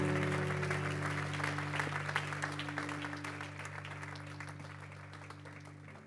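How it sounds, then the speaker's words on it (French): A church congregation claps and cheers in praise of the Lord, a dense, steady wash of applause in a large hall that fades gradually over several seconds, with a faint voice underneath. "Tu peux acclamer le Seigneur pendant que je le fais."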